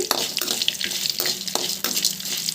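Broad beans (chikkudu) are stir-fried in a pan, giving a steady loud sizzle broken by regular scraping strokes of the spatula, close up and with no talk.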